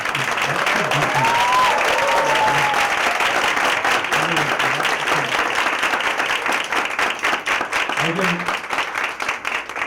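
Sustained applause from an audience at a college youth parliament competition, loud and continuous for the full stretch, with cheering voices mixed into the clapping.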